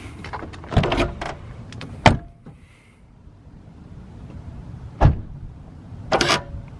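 A car's power window motor whirs in a few short runs, with sharp clunks and thumps between them, close and fairly loud with no talking.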